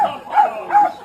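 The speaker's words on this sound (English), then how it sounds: "we don't need to hear that dog yipping and yipping" Small dog yipping twice in quick succession, two sharp high-pitched yelps close and loud with a brief gap between them.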